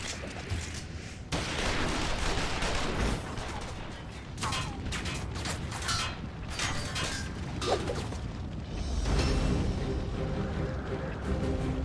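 Gunfire in a Final Fantasy XIV cutscene crackles in bursts amid mechanical clanks and creaks, with dialogue heard between and over the shots.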